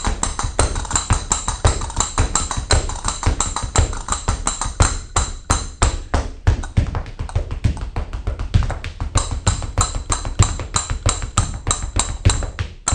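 Flamenco castanets clicking over quick rhythmic foot taps on a hard floor: a dense, steady run of close, sharp clicks and thuds that keeps going without a break and with no talking.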